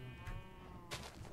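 Sheep bleating in Minecraft, two short bleats in the middle of a steady background, moderately loud and close.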